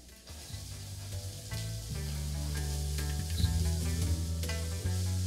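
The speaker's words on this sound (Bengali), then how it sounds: "আর পেঁয়াজটা কিন্তু এখানে আপনারা খুব বেশি ব্রাউন করে ভাজবেন না" Chopped onions frying in butter and chicken juices for a Bengali chicken lunch dish, a steady close sizzle running throughout with a few soft stirring touches and no talk.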